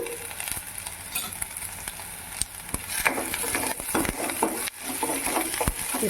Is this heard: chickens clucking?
no